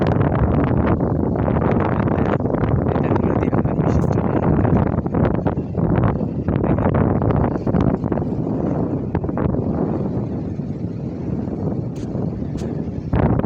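Steady wind off a river buffets the microphone in rough gusts, a continuous blustery rush outdoors with no clear voices.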